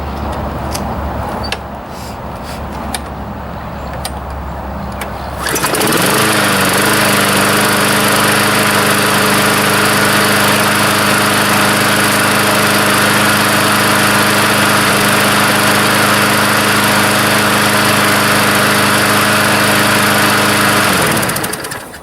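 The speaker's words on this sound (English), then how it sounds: "I just put fuel in, so it should be going into the carburetor. The bowl might not even be full yet, but let's give it a pull, see what happens." Gasoline walk-behind lawnmower with freshly refueled carburetor: brief rustling and handling, then at about five seconds the engine catches after a pull start and runs steadily and loudly close by until it cuts off near the end.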